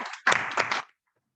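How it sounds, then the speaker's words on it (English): A short burst of clapping for a club member at a Toastmasters meeting, a few close, sharp claps lasting under a second before cutting to silence. "And a big round of applause to Toastmaster Bob"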